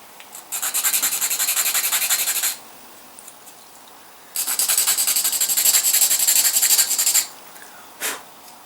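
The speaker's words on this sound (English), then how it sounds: "take your file and then the smooth pips" Hand-filing sprue nubs off a plastic Tamiya RC truck kit part: two long bursts of quick, rhythmic rasping strokes, close and clear, with a short scrape at the end and no talk.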